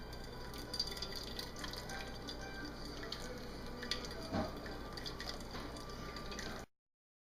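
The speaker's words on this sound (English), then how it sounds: "I'm gonna run cold water on it now." Cold water from a tap runs over a glass wine bottle, a quiet, steady trickling and splashing with a few faint drips, stopping abruptly near the end.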